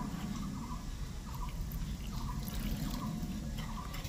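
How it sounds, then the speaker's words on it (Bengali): Water poured and splashing onto grated coconut in a bowl, a continuous close liquid pouring with soft trickling and drips, no voices. "এর মধ্যে একটু জল দেব।"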